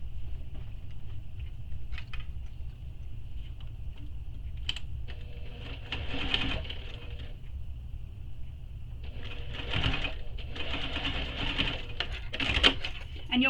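A sewing machine stitches across the seam of a fabric wallet in several short, rapid bursts separated by pauses, fairly quiet and close.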